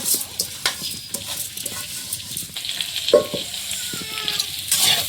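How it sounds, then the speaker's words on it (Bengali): Winter garden vegetables such as cauliflower and radish fry in a pan for khichuri, with steady sizzling, stirring scrapes and a few soft clinks throughout, close and moderately loud with no talk. "আবার ওদিকে ভাজা চলছে"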